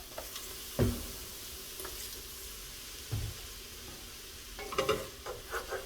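A spoon scrapes the bottom of a soup pot where broth has been splashed over browned garlic, with a soft sizzle underneath. Three or four distinct scraping strokes stand out, close but fairly quiet.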